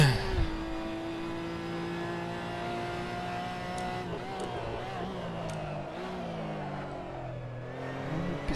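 Porsche Cayman GT4 Clubsport engine in the racing game Assetto Corsa, a steady high-pitched engine note that rises and falls as the car brakes and then accelerates, heard continuously under faint background noise.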